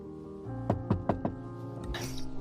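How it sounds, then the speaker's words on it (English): Four firm knocks land on a door in a quick, evenly spaced series, close and clear, with a faint scuffle just after. "Suddenly, a knock at the door interrupts her sorrow."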